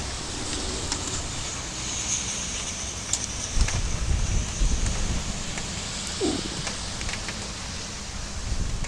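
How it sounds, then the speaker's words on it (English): Strong, steady wind roars during a severe storm with tornado weather in the southeastern region, a dense hiss buffeting the microphone with occasional stronger gusts. "The winds are definitely increasing."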